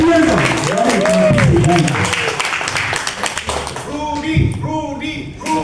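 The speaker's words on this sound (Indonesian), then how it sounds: "yuk boleh kita tepuk tangan" Audience at a reward celebration event claps hands while voices call out and cheer over the top, busy mixed crowd noise with applause running beneath loud nearby speech.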